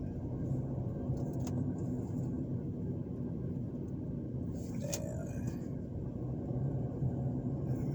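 A car rolls steadily through residential streets of Orange Beach, Alabama, a constant low road rumble and engine hum heard from inside, with a brief passing swell midway.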